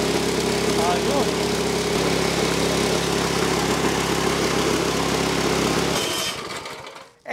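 A 9 horsepower 177F small gasoline engine runs loud and steady at high speed, a constant buzzing drone that cuts off near the end and falls quiet.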